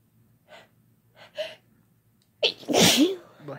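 A few soft, hitching inhales build up to one loud, close sneeze that ends in a short trailing breath, with near silence in between.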